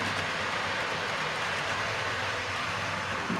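A model railway train runs steadily on very clean rails in a loft layout, giving a continuous close rolling rumble and hiss with no pauses and no voices.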